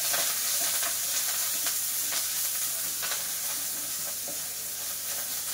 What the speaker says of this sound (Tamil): கருவேப்பிலை போட்டு நல்லா இதை அப்படி ட்ரை ரோஸ்ட் நல்லா ரோஸ்ட் பண்ணிக்கலாம்